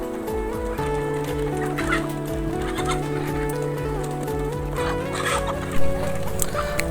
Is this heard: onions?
no